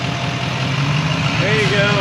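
Chevrolet Silverado Duramax 6.6 L L5P diesel pickup engine running steadily in a workshop, a low diesel drone with a faint rising rev near the end, close by and continuous.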